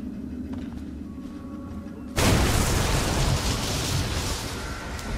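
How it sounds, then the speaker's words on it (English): A sudden loud boom in the video game Dishonored cuts through a quiet, low ambient hum, then leaves a dense, rumbling roar that fades only slowly. "Kaboom!"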